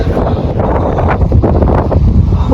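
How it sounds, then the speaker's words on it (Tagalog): Strong wind in snowy cold weather buffets the microphone with a loud, continuous rumbling roar that gusts unevenly throughout. "Grabe lakas ang hangin."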